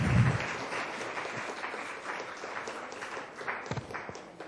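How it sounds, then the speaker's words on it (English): A large audience applauds steadily to welcome a moderator at a literary event, a continuous, even wash of clapping with no talking. "with a big round of applause, welcome the moderator for the show"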